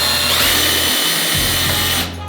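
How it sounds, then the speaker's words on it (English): A power drill drives a self-tapping screw into a brace on a black PVC privacy gate, whirring loud and close with a continuous motor whine that strains and shifts in pitch before winding down. "Now I am going to secure it with a self-tapping screw on each end."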